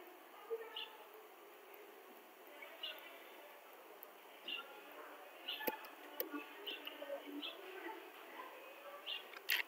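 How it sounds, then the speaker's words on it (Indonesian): A sparrow chirps faintly in the background in short, repeated calls spaced a second or two apart, over a quiet indoor hiss. "Kok ada suara burung pipit?"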